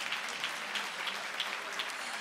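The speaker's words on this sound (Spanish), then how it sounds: "¡Un aplauso!" Applause from a live show audience, a steady dense clatter of many hands clapping throughout with no talking over it.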